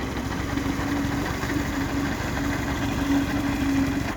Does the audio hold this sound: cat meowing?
no